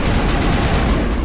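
Sustained gunfire in the Mass Effect video game, a dense, loud fusillade of rapid automatic shots rolling continuously without pause and with no talk over it.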